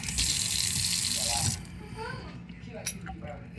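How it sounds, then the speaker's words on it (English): Water from a leaking kitchen faucet runs steadily into the sink, then drops away to softer trickles and drips, with someone talking nearby. "It's still dripping."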